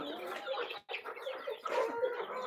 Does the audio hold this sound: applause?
no